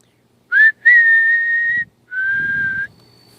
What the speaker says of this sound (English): All you got to do is whistle.